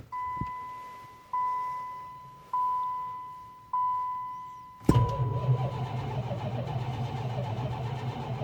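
A Plymouth Gran Fury cold-starts in 19 degree weather: four rising warning chimes sound alone before the engine cranks and catches into a loud, steady idle.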